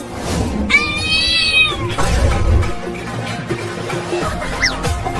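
A cat meows clearly in a comedy skit, one drawn-out cry followed by a shorter higher meow, over a steady noisy background.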